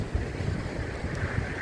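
Storm wind gusts outdoors during a tornado outbreak chase in Illinois and Indiana, a steady roaring buffet across the microphone with low thumping bursts, loud and close throughout.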